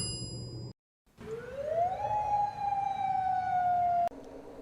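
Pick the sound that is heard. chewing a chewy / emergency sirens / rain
emergency sirens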